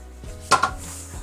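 Pizza dough ingredients, olive oil among them, get stirred together in a kitchen bowl, giving a couple of sharp scraping clatters of utensil against the bowl amid quieter handling noise.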